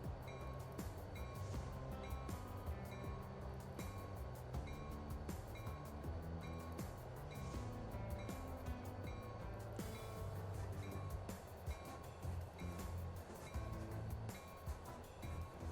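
Electric locomotive running in the Transport Fever 2 train game, a steady loud rumble of engine and rolling stock mixed with a dense game music or ambience bed throughout, with no voices.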